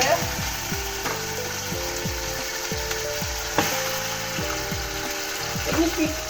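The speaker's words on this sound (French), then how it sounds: "on va commencer à faire revenir ma viande, ces viandes, pour donner leur saveur." Meat browning in a pan for a vegetable couscous, sizzling steadily with repeated scraping and stirring strokes from a utensil, fairly close and alone with no talk.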